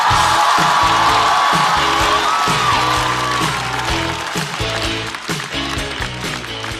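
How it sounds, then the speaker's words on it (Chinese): A studio audience at a stand-up comedy show applauds and cheers loudly to welcome a comedian, with whoops over dense clapping while upbeat music with a pulsing rhythm plays underneath. "小帕休息，掌声欢迎雪冰。"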